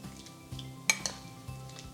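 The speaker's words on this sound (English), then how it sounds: "Now let's mix this all together." A spoon clinks and scrapes against a bowl while deviled egg filling with bacon, mayo, relish and ketchup is mixed, a few quick metallic taps standing out in short, close strokes.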